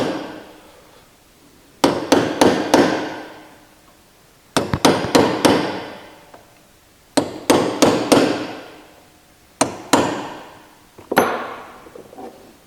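Hammer striking the rear axle of an Austin A40 Farina to shift it, heard as loud metallic blows in clusters of three or four, each ringing briefly, separated by pauses.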